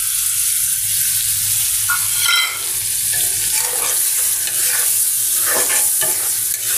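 Small shrimp added to hot spiced oil and stirred, a bright continuous sizzle broken by scraping strokes of the spoon in the pan, close and clear with no voices.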